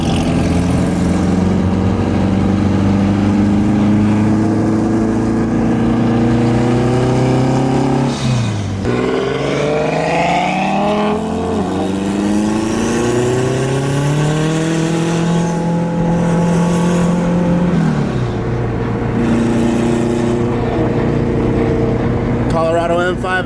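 An M5 engine at a car meet revs hard, rising in pitch and then dropping back twice in long, loud sweeps over a constant idle drone. The revving is heard up close, and voices talk intermittently beneath it.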